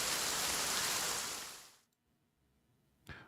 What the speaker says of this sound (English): Rain falls from the sky.